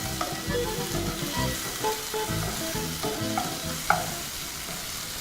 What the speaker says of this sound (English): So just put back your meat. And then stir this.